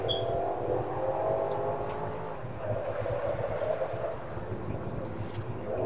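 A car engine in the racing game Forza Horizon hums and revs steadily with a bright whine, holding a fairly loud, continuous drone with slight dips in pitch throughout.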